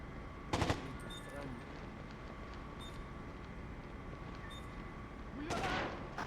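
Video game gunfire crackles in two short bursts, one near the start and one near the end, over a steady hum of in-game background noise, fairly faint and without anyone talking.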